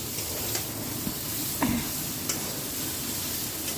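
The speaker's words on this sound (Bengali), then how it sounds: "এরকম আমার উচ্ছে আর আলুটা প্রায় ভাজা হয়ে গেছে।" Sliced bitter gourd and potato fry in a pan, giving a steady soft sizzle and hiss with occasional light scrapes of stirring, quiet and continuous throughout.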